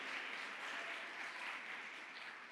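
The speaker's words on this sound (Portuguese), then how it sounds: "Pode aplaudir Jesus, não a mim." A church congregation applauds during a celebration service, a dense wash of clapping that stays even and fairly quiet, heard from a distance with no voices on top.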